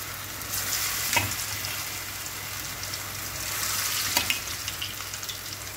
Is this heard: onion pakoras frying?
yes